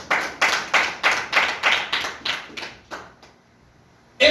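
A church congregation claps together to acclaim the Lord during a French-language sermon, about ten sharp, evenly spaced group claps in a steady rhythm that fade and thin out, followed by a sudden loud burst at the end.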